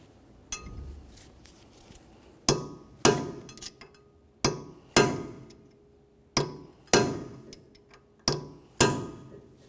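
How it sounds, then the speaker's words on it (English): On a 1994-1997 Honda Accord, a hammer peens the axle nut into the notch in the axle shaft. About a dozen sharp metallic strikes come close and loud, in irregular pairs and singles with short ringing decays and pauses between them. "We need to peen the axle nut into that area."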